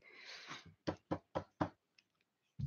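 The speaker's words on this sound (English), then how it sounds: "The fusion was interrupted by a knock on the door. A really loud knock." A door takes a loud knock: five sharp, evenly spaced raps in quick succession after a brief rushing noise, then a sixth thud after a pause.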